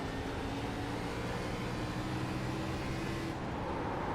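A race car engine roars steadily without a break in the iRacing game at Richmond, with a dense constant drone that holds through the whole stretch while the car slides.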